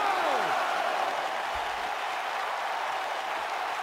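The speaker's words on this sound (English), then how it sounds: "the crowd is loving Sasha's act" A wrestling arena crowd cheers and applauds in a dense, steady roar of clapping and voices that holds throughout at constant volume, with a descending whistle-like swoop at the start.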